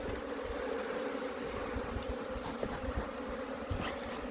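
Honey bees buzz continuously during a hive inspection, a close, even hum from many insects with a few faint knocks from the frames and no talking.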